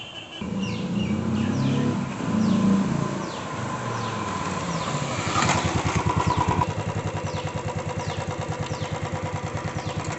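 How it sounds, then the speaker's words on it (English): Royal Enfield Classic 350 BS6 motorcycle engine close by, revving at first and then settling into a steady, evenly pulsing single-cylinder idle, with no speech. "this is the video where we are showing how the bike runs, the BS6 runs"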